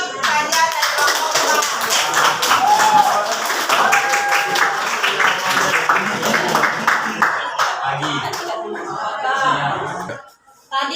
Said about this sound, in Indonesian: Oke, beri aplaus untuk Fajar dari kelompok